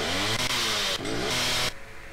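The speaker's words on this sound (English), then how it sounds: "Alright, here we go. A dual chainsaw." A dual chainsaw weapon in the Star Forge video game revs with a loud, buzzing engine drone that runs steadily for about two seconds, then cuts off abruptly.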